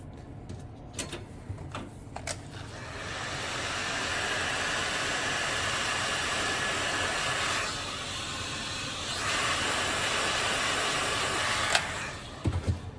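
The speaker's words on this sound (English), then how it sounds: "I just heated up with the heat gun" A heat gun blows hot air onto cracked cork on a Birkenstock Florida sandal, making a steady close whooshing hiss that rises and dips slightly, with a few knocks before it starts and after it stops.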